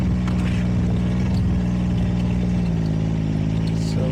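A vehicle drives through a cattle pasture to feed hay, its engine droning loud and close with a steady low rumble that shifts slightly in pitch.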